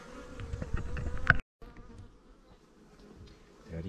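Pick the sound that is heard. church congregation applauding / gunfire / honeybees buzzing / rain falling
honeybees buzzing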